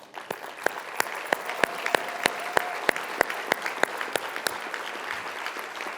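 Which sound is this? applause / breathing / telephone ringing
applause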